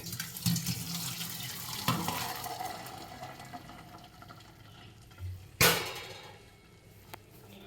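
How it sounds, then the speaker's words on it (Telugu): Cold tap water runs and splashes over freshly boiled, drained noodles in a kitchen sink, a steady close wash with a few sharper clanks and bursts of pouring, no talking. "దీంట్లో ఇమీడియట్గా కోల్డ్ వాటర్ వేసుకోవాలి."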